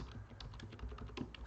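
Quick, light keystrokes on a computer keyboard tap out a short command, a soft, irregular patter of clicks heard close up against quiet room tone.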